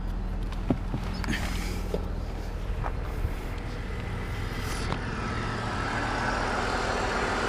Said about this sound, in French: le bruit au ralenti du moteur